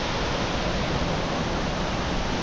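A waterfall in southern Brazil roars as a steady, loud, unbroken wash of falling water heard up close from the upper circuit, with no voices.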